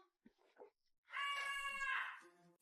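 A big tabby cat lets out one clear, drawn-out meow, loud and close, after a few soft, faint sounds.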